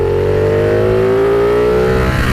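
A Ducati Panigale motorcycle pulls hard to overtake on an open road, its engine note climbing steadily in pitch under full throttle, loud and close with no voice over it.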